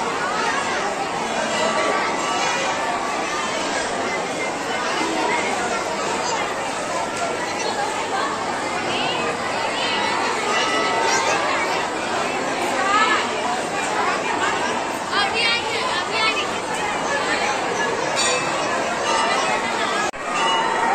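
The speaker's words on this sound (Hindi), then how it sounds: "और देखिए मंदिर के प्रांगण में किस तरह से भक्तों की भारी भीड़ लगी हुई है।" Dense crowd of devotees packed into a temple courtyard during Durga Puja in Jehanabad, Bihar, making a constant loud babble of overlapping voices and chatter with no pauses across the whole stretch.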